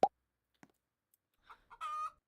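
Cartoonish chicken clucks from a chicken farm video game: a sharp cluck at the start, a brief blip, then a few short clucks rising into a longer squawk near the end, with silence between.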